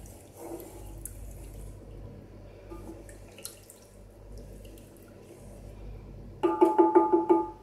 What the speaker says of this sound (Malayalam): ഏകദേശം 2 കിലോ മീൻ മീനിൻ്റെ ലെവലിൽ നിൽക്കുന്ന വെള്ളം നന്നായിട്ട് ഒഴിക്കുക.